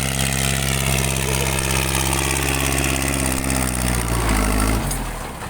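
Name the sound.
loud exhaust pipe of vehicle plowing cassava field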